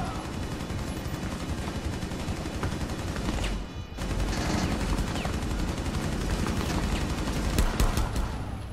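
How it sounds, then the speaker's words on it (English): Sustained automatic gunfire in Rainbow Six Siege, continuous rattling volleys that fill nearly the whole stretch with only a brief dip midway, close and loud, with no one talking over it. "Just start shooting."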